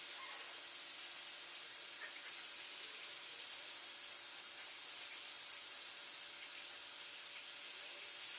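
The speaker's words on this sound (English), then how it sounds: "with celery, you always want to wash it off first, because this does have that dirty bit" Celery is rinsed under a running kitchen tap, giving a soft, steady hiss of flowing water that continues evenly and fairly quietly throughout.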